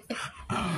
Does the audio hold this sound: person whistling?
no